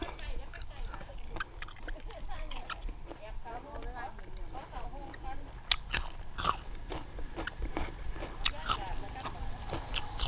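Grilled pork leg is eaten outdoors by a rice field, with bites and chewing sounds running under ongoing voices.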